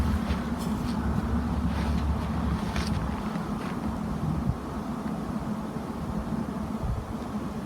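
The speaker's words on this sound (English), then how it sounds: "Got a little wind in your face now too." Wind buffeting a microphone outdoors at a golf field test, a continuous loud rumbling roar that stays steady throughout with no speech.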